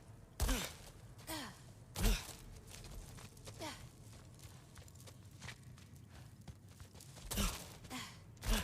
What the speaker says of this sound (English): I think I can hear something breathing near the back of the cellar.